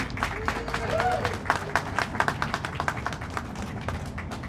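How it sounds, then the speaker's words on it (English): Audience applause at an interfaith solidarity march panel in Los Angeles honoring speaker Terry Lupton, a steady wash of clapping from a crowd with sharper individual claps and some background chatter throughout. "Let's give another round of applause for Terry Lupton."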